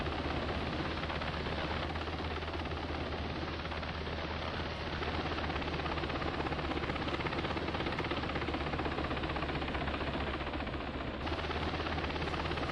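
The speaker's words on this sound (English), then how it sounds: "the first medevac aircraft touched down and several of the wounded were loaded on the aircraft" Steady, loud rotor roar of a medevac helicopter landing at a remote combat outpost, a continuous dense broadband thrum that holds unbroken throughout with no voices.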